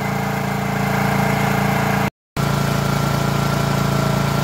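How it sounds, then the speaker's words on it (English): A portable generator engine runs steadily at a constant idle, a loud close droning hum with even vibration, briefly cut out for a moment before resuming. "Here's my generator. It's been running pretty good since I cleaned out the carburetor and added some dry gas to it."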